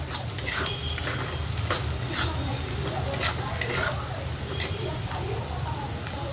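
Chili powder being stirred into hot oil in a pan while making chapati chivda: a steady sizzle and frying hiss with soft scraping stir strokes and faint utensil clinks throughout, close and continuous.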